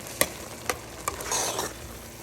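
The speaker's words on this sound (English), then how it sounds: "So I'm going to add my locust beans. And just give this a stir." Locust beans are stirred in a sizzling pan, a soft frying hiss cut by three sharp scrapes of the spoon in a slow rhythm, fairly quiet and without talk.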